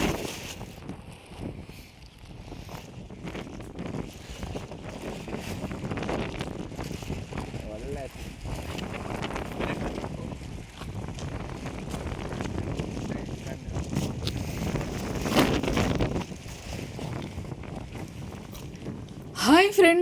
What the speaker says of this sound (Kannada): ಇದು ನಮ್ಮನ್ನೇ ಗಾಳಿ, ಇದು ನಮ್ಮನ್ನ ಮತ್ತೆ ಮೊಬೈಲ್ನ ಎಲ್ಲ ನೂಕುತ್ತೆ